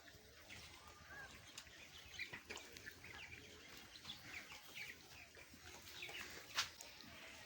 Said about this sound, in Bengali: দেখেন 1000 মুরগি আছে বর্তমানে। মুরগিগুলো অনেক ভালো, দেখেন সুস্থ।